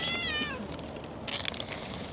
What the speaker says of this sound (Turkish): Bakın burada 3 kedi sayabiliriz bunu.